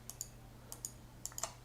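Computer mouse clicks while drawing a cave map in mapping software: about eight light, crisp clicks in two loose clusters, close and quiet over a faint steady hum, with no talking.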